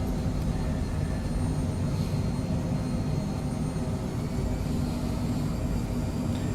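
Twin jet engines of a Phenom 100 in Microsoft Flight Simulator, a steady loud cockpit roar with low rumble and faint high whine, holding even throughout without talk.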